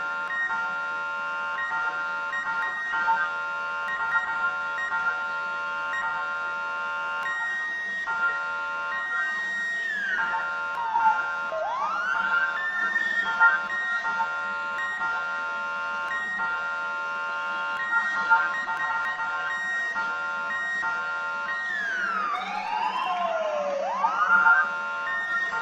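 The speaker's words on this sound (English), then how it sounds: "that right there is how you mimic the siren" Fire truck siren from Ladder 111 in an emergency-response video game, wailing in sweeping rises and falls over a steady electronic hum, with two prominent swoops standing out near the end.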